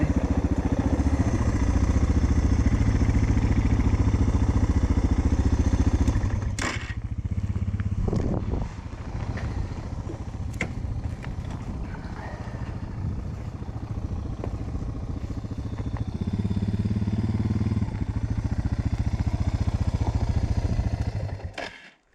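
A Suzuki DR650 motorcycle engine with its airbox open runs close by with a loud, coarse drone, briefly interrupted by clatter before settling back into a steady running note.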